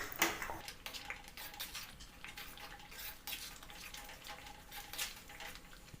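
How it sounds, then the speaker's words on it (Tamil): Tapioca (cassava) halwa being stirred with ghee in a pan, a steady scraping and clinking of a spoon against the metal with soft sizzling underneath, continuous and close with no talk. "இப்போது நம்ம மீதமுள்ள நெய்யையும் இதில் மிக்ஸ் பண்ணி விட்டு நல்லா கிண்டி விட்டுக்கலாம்"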